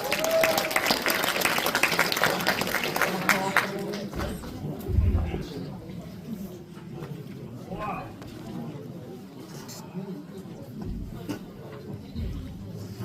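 An audience at a university academic festival applauds a student presenter, with dense clapping at first that thins out and fades, followed by quieter room noise and scattered claps.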